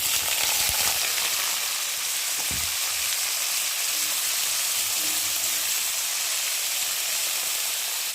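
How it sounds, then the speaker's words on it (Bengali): Loud, continuous sizzling of vegetables frying in hot oil, a dense steady hiss close up with a brief clatter early on. "এই যে সবজিগুলোকে দিয়ে এখন তেলের মধ্যে ভেজে নেব"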